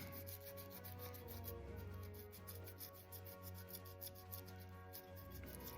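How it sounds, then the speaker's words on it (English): Eighty-grit sandpaper scuffing the inside of a LiPo bullet connector, giving a steady, close, continuous scratchy rubbing with small rhythmic strokes and no talk. "All we're trying to do is scuff up the inside of the bullet."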